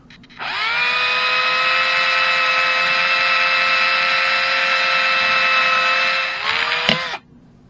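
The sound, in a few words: electric drill enlarging hole with 1/4 inch drill bit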